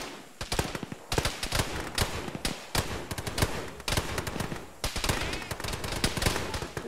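Rapid gunfire from a jungle firefight in the ArmA military game crackles in dense, overlapping bursts of rifle and machine-gun shots throughout, steady and fairly loud, with no voices.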